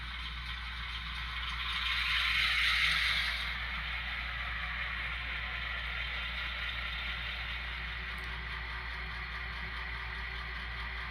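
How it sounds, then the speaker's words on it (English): GP30/GP38 diesel locomotives on the Virgin River Railroad line 5669 start up: a cranking roar swells and then settles into a steady idle rumble, with a brief click later on. "And here is the startup sequence."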